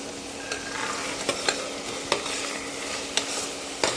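Soaked peas sautéed in a hot pan, a constant sizzle punctuated by sharp spatula knocks and scrapes at irregular intervals, close and clear.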